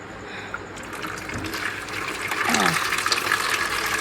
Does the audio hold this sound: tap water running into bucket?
yes